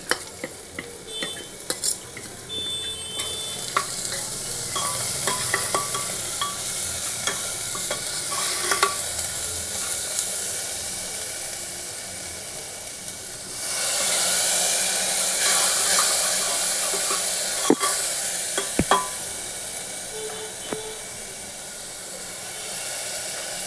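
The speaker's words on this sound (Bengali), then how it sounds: "শুধু ভালো করে ভেজে নিই" Spices frying in a hot pan for a simple mung dal, a continuous loud sizzle and hiss with occasional stirring clicks, swelling into a stronger burst of hissing steam partway through.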